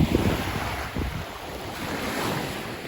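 Sea waves washing on a treeless steppe shore under a cliff wall, a continuous broad roar of surf mixed with gusting wind buffeting the microphone, fairly close and steady with no voices.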